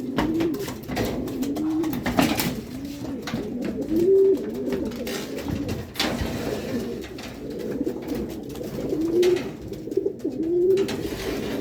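Pigeons coo repeatedly in low, throaty phrases, close by, amid shuffling and soft clattering noises.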